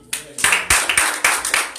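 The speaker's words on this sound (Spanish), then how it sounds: "¿Cuánto un aplauso a Cristo Jesús?" A church congregation claps at a vigil service, a burst of close, rhythmic handclaps that repeat in quick pulses for a couple of seconds with voices faintly underneath.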